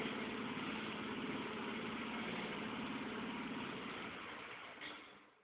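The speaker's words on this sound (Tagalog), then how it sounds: "umaandar ang kanyang makina at malakas. Powered by Honda." A Honda-powered engine on a model airplane runs steadily, a dense, even buzzing drone held close for several seconds before tapering off slightly at the end, with no talk.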